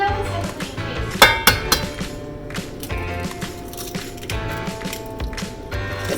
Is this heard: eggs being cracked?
yes